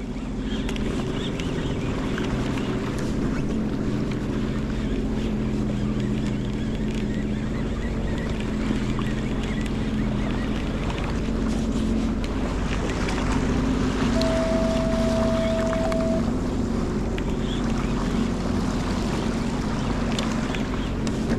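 Engine of a Sea-Doo personal watercraft running on the open sea, a steady loud droning rumble mixed with wind buffeting and splashing water for the whole stretch, with no talk.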